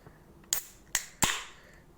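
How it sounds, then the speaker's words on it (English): A ring pull snaps open on an aluminium Nos Sonic Sour energy drink can: a few sharp close clicks, then a louder pop with a brief rush of air, in a quiet room with no talking. "if I can get this ring pull up and see how violent the explosion of air is when the atmosphere comes in"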